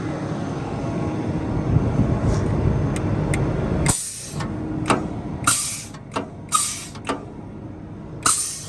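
Diesel engine of a 2005 Kenworth W900 mixer truck held at raised throttle, a loud steady roar that drops off midway, followed by sharp hissing air bursts at irregular intervals.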